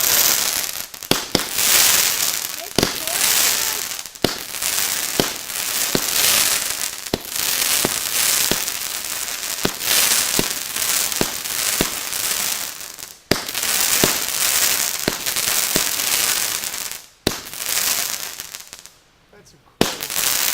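Fireworks on a May long weekend night burst repeatedly for about twenty seconds, a dense run of loud cracks, bangs and crackling, with people talking and exclaiming now and then between the blasts.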